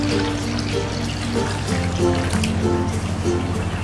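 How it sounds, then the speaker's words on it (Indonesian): Water, 300 ml, poured into coconut milk powder to dissolve it, a steady close trickling stream lasting several seconds over a low background hum. "Kita larutkan dengan 300 ml air putih."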